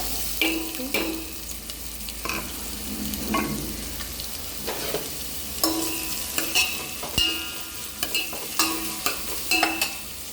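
Ginger, garlic and green chili fry in a hot pan for a broccoli masala curry, a continuous crackling sizzle broken by frequent rhythmic scraping strokes of a spoon stirring, close and clear with no talking.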